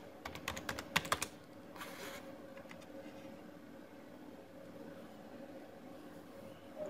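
A short burst of rapid clicking on a computer keyboard comes first, followed by a few scattered keystrokes over a steady hum of room noise, close and quiet.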